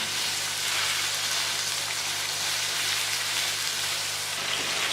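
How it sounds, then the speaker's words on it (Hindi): Chicken fries in a karahi for an Afghani chicken karahi, a steady, dense sizzle that stays even and fairly close throughout with no pauses. "अब हम इसको 10 मिनट तक फ्राई करेंगे"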